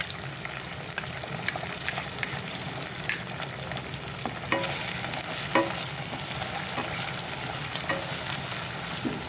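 Chilli paneer stir-frying in a pan with Schezwan chutney and red chilli sauce, giving a steady close sizzle broken by irregular spatula clacks and scrapes throughout, with no one speaking.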